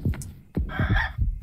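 Chickens clucking in the game Yomawari: Night Alone, a few short close clucks in quick succession.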